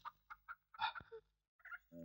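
A chicken clucks close by in a series of short, choppy calls with brief pauses, ending in a longer, harsher squawk.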